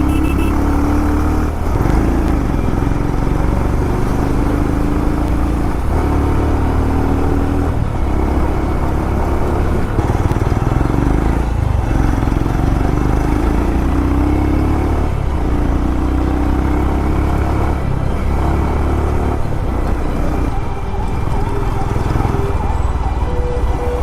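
Royal Enfield Himalayan single-cylinder motorcycle fitted with a Powerage exhaust, idling and revving with a loud, steady thumping drone throughout, rising and falling in periodic throttle blips, heard up close.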